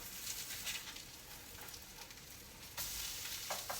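Tuna patties frying in a pan give a steady, soft sizzle and crackle, fairly quiet throughout, with a few brighter spits and a small surge in the last second.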